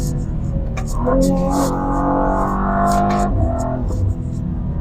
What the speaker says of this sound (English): that inline 6 still sounds really nice, but not a surprise there because this is the same engine as the M3 and M4